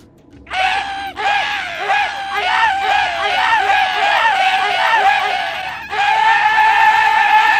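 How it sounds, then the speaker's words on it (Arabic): A video game weapon whose gunshot is a human scream: loud, shrill screaming voices repeat in quick succession with each shot, nearly continuous for several seconds with a brief break near the start. "صوت طلق السلاح واحد قاعد يصرخ"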